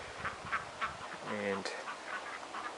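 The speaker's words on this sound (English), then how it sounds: "go towards the pig pen, and you can see some of the other ducks hanging out here" Indian Runner ducks quacking on a farm near a pig pen, a few faint distant quacks and one clearer nasal call in the middle over steady outdoor background noise, with a brief spoken word.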